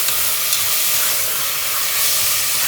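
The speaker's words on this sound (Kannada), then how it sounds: "ಫ್ರೈ ಆದಮೇಲೆ ಅದಕ್ಕೆ ನಾನು 1 ಟೊಮ್ಯಾಟೊನ ಕಟ್ ಮಾಡಿ ಹಾಕೊಳ್ತಾ ಇದ್ದೀನಿ." Chopped tomato frying in a pan, a continuous close sizzle and hiss with no pauses or talk.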